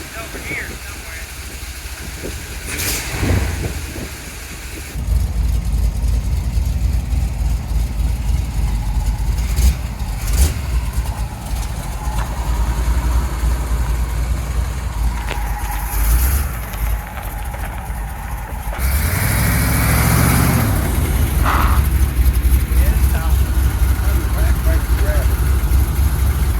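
Chevrolet C10 truck with exhaust cutouts, its engine idling as a loud, low, steady rumble. The idle shifts in level partway through and rises further near the end, and voices talk over it intermittently.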